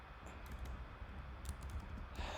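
Faint keystrokes on a computer keyboard enter text into the gedit editor in Linux, soft scattered clicks in short bursts over low background hum.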